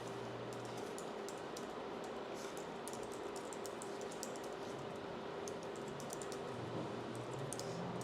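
Personal details are typed on a computer keyboard in quick, light clicking bursts, faint and close against a steady low room hum, with no talk.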